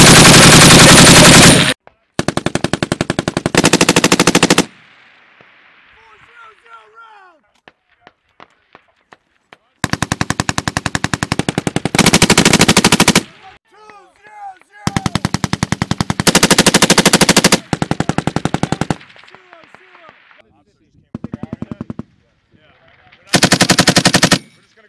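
Military machine guns firing live rounds during a Marine combined arms assault, very loud, in long sustained bursts separated by gaps where people talk and shouts and scattered single reports are heard.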